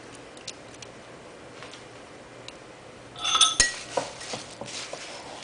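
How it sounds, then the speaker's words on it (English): Dry ingredients stirred into a honey mixture in a bowl, mostly quiet with light ticks at first, then a burst of clinking and scraping of a utensil against the bowl, no talking. "if you just keep stirring it, eventually you'll get all of the dry ingredients coated with the honey mixture"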